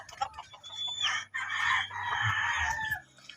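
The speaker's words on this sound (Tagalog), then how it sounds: "So ito pala mga manok." A rooster crows loudly and nearby, a long strained cry, while hens cluck around it in short bursts.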